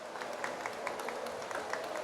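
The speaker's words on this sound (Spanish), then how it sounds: "Un aplauso para nuestras panelistas" An audience at a COP30 session on climate-resilient agriculture in Latin America and the Caribbean applauds its female panelists with a steady, soft, diffuse patter of many hands that stays even and fairly distant throughout.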